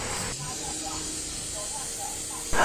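A brazing torch flame hisses steadily and close while copper pipe is heated for joining, a broad continuous roar under a voice speaking.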